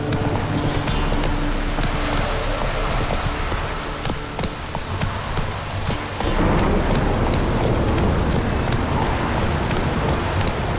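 Roach, the horse in The Witcher 3, galloping with a steady rapid clip-clop of hooves, loud and close, under a constant wash of rain and rumbling thunder.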